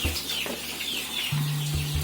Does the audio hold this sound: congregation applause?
no